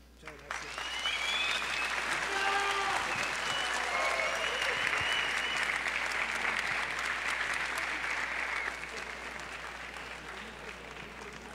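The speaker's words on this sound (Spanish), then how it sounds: "Y desde luego la reiteración del aplauso" Sustained audience applause closing a lecture at a congress, dense clapping filling the hall for about ten seconds, with a voice talking over it early on and the applause tapering slightly near the end.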